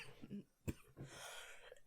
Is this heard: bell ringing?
no